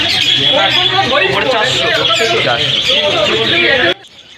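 Many budgerigars chirping densely and continuously at a bird market in Garia, Kolkata, close and loud, with a voice talking over them; the sound cuts off abruptly near the end.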